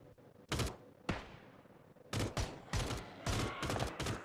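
Gunfire in a zombie shooter game, heard as several bursts of sharp shots: a couple of isolated cracks, then a denser run of repeated volleys, fairly distant and moderately quiet, with no talking.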